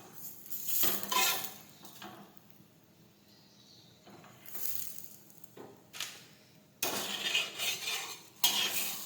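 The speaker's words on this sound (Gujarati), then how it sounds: "હવે આપણે તેલ છે તે લગાવી લઈશું." Oil being spread over a thepla on a hot griddle, a few soft scrapes and clinks of a spoon against the pan, with quiet stretches between bursts of brushing and light sizzle near the end.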